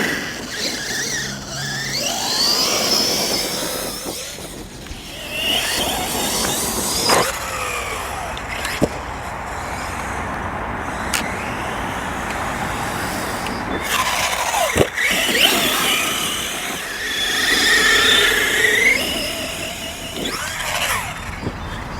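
A VORTEKS 4S RC car fitted with a cheap 120A ESC and BackFlip-style tyres drives fast across grass, its electric motor whining and rising and falling in pitch as it accelerates, passes and turns, with no talk.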